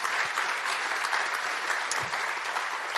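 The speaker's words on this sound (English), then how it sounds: "Please, can I have a round of applause for all our speakers?" An audience at a food safety forum gives a round of applause for the speakers, continuous dense clapping at moderate level with no talking.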